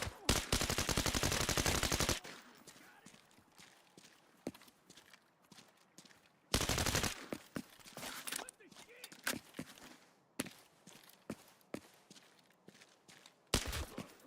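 Bursts of automatic gunfire from a weapon in Arena Breakout Infinite, long loud sustained volleys alternating with quieter stretches of scattered single shots and footsteps, with a voice talking between them.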